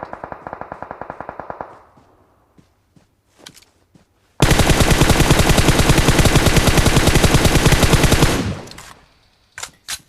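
M4 rifle gunfire in the PUBG Mobile game on the Livik map, a rapid automatic burst, a few scattered single shots, then a long sustained stream of loud close fire before a final couple of shots.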